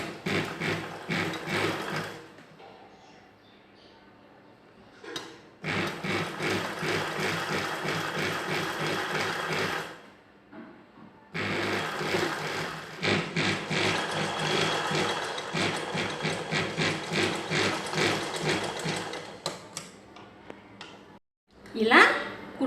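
A sewing machine stitching the folded edge of blouse cloth, running in long rapid mechanical bursts separated by quiet pauses, close and clear.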